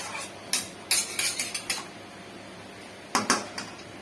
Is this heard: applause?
no